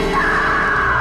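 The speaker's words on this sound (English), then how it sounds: "and Alice screams." A woman's loud, sustained scream from the Alan Wake video game, set at a cabin as the power gives out, fills the whole short moment, close and alone with no talk over it.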